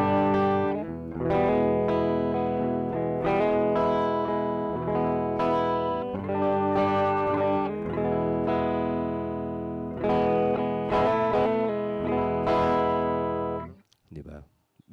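Electric guitar run through a Joyo King of Kings dual vintage overdrive pedal, playing loud sustained chords and notes with a warm, distorted vintage tone, ringing continuously before cutting off near the end.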